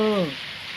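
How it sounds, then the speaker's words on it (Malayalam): Rain falls as a dense, steady hiss. A voice trails off at the start, and the rain continues alone. "ഇവിടെ നല്ല മഴയുണ്ട് ഞാനിരിക്കുന്നിടമൊക്കെ മഴയുണ്ട്"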